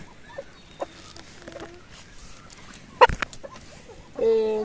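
A rooster in a fog-bound henhouse gives scattered faint clucks, then a sharp burst and, near the end, a louder sustained harmonic call, all fairly distant over quiet background.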